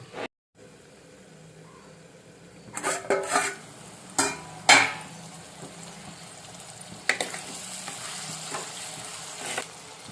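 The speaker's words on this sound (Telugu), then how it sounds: "కొంచెం ఉప్పు వేసుకుంటున్నాము, పసుపు, ఒకసారి కలుపుకొని మూత పెట్టి మగ్గించుకుందాం." Eggplant and dried prawn curry stirred in a pan, with scraping spoon strokes and a soft sizzle; a few sharper clinks and stirs stand out over a steady low frying hiss, no talk.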